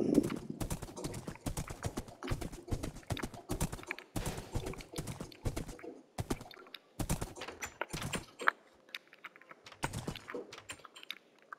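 Horse hooves clip-clopping in the Minecraft video game, a quick irregular series of hollow clopping steps, fairly close but quiet, with brief pauses and no talk.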